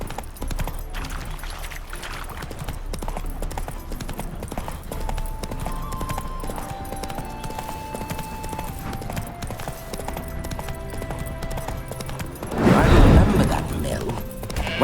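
Steady hoofbeats clip-clop in a quick trotting rhythm across a busy The Witcher 3 game soundscape with faint music, ending in a louder scuffling burst.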